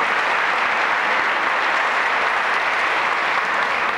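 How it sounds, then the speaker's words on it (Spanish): Dense, steady applause from an audience at a cooperative music event honouring maestro Arnulfo Briceño, a continuous wash of clapping with no voices over it. "podemos brindar un aplauso simbólico"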